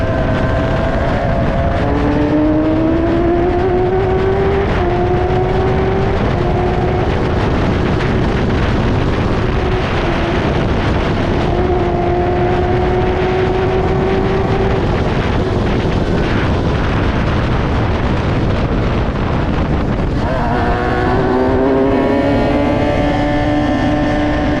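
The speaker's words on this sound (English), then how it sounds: "Here we're queuing, or slowly moving through the pits" An F1000 single-seater race car creeps through the pits at Croft, its engine holding a loud, steady drone with slow rising and falling pitch swells and a few throttle blips, close by.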